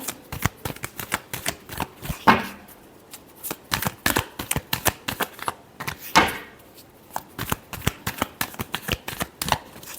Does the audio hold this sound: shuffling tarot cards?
yes